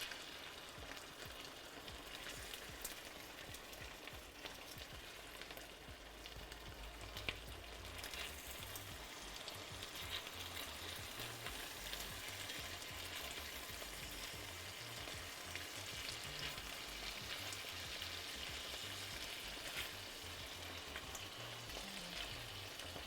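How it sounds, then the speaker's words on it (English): Steady, dense sizzling of Korean fire chicken frying in a hot pan, loud and close, continuing without pause for the whole stretch with no voices. "The sizzle sound is pretty nuts from this."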